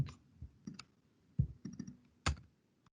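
Sparse computer mouse clicks in an irregular pattern, crisp and close in a quiet room, with short gaps between small clusters of clicks.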